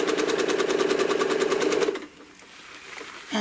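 Home sewing machine stitching quickly with a curved ruler, a fast even whirring chatter for about two seconds that then stops, leaving faint handling noise before a brief restart.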